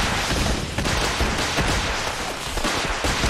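Defensive settlement turrets in Fallout 4 fire in rapid, overlapping volleys, a dense, continuous clatter of automatic gunfire at close range with no voices.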